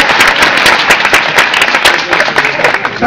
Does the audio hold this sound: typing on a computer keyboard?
no